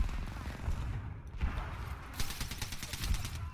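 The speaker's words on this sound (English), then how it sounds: "That's a lot of frag grenades." Frag grenades and gunfire burst repeatedly in a chaotic video game firefight, with dense overlapping explosions and shots throughout and a voice talking over the action.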